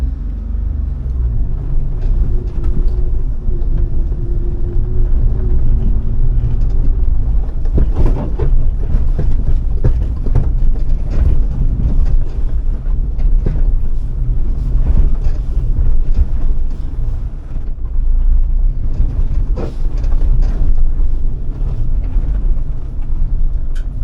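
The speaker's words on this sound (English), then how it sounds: "I just put it into 4-wheel drive and we're gonna see if we can climb this hill." A small 4x4 minivan in four-wheel drive climbs a hill, its engine a loud, continuous low rumble mixed with heavy wind buffeting on the microphone.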